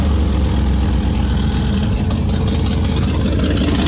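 A 1987 Chevy Corvette C4 engine idles steadily up close, its low rumble carrying the ticking, puffing rasp of an exhaust leak, with no talking over it.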